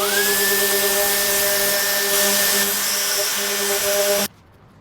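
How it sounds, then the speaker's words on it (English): A loud dual action sander whines steadily at close range on a car panel, with a rising tonal hum, grinding for several seconds before cutting off abruptly into quiet. "So I've done as much sanding as I want with the DA."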